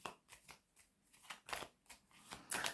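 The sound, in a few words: tarot cards being handled and laid down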